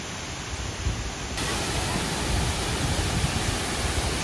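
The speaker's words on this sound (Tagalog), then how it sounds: "Wat Kiratan Waterfall." Wat Kiratan waterfall at Doi Inthanon in Thailand sends a steady, dense roar of falling water. The rush is loud and constant, growing fuller partway through, with no clear voices.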